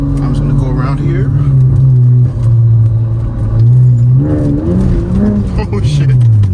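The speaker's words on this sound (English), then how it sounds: "so you can get a very good sound of the straight cut gearing" Acura TL Type-S with straight cut gears accelerating, its loud engine rising and falling in pitch alongside a gear whine, with a person talking over it.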